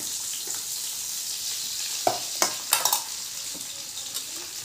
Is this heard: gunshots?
no